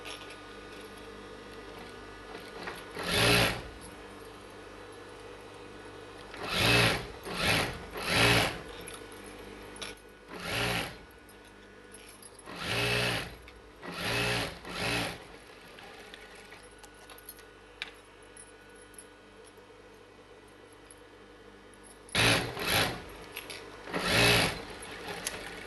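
Sewing machine stitching along the edge of a silk dress lining and body piece for a child's silk langa blouse, short close bursts of rapid whirring separated by quiet pauses, with no talking.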